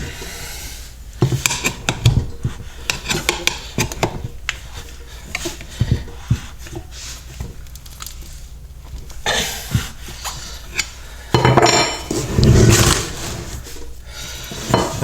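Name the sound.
removing a brake disc from a vehicle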